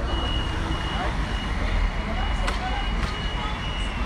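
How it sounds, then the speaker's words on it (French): An alarm at a motorway toll booth near Buchelay sounds as a car passes without paying, brief beeps over loud, steady traffic and engine rumble. "quand il passe sans payer, t'entends l'alarme."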